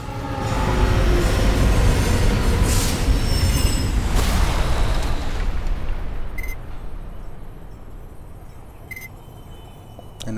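Trains roar past in the video game Alpha Protocol, a loud rushing rumble with squealing wheels that fades away, followed by a few sharp clicks.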